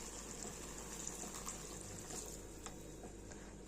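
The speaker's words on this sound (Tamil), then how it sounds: "இப்போ நம்ம தண்ணி ஊற்றிக்கலாம்." Water poured into a cooking pot of thattai payaru (cowpea) kootu with salt and chilli powder, a steady gushing fill running continuously at close range with no talk.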